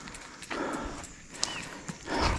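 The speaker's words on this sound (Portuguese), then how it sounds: "O cavalo ali. Que bonito." Hooves of a horse walking on a rural farm clip-clop in a slow, uneven rhythm at moderate distance, mixed with outdoor ambience and occasional faint rustles.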